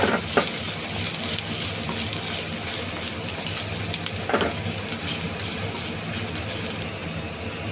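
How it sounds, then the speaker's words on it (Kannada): Green chilies, ginger, garlic and Byadgi chilies frying in hot oil, a dense continuous sizzle close up with occasional scraping stirs of a spatula against the pan. "ಈಗ ಇದನ್ನು ಚೆನ್ನಾಗಿ ಮಿಕ್ಸ್ ಮಾಡ್ಕೊಳ್ಳೋಣ, ಅಂದರೆ ಫ್ರೈ ಮಾಡ್ಕೊಳ್ಳಿ ಚೆನ್ನಾಗಿ."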